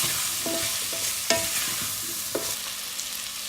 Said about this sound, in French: Je mélange le tout et je laisse recuire l'ensemble encore quelques minutes.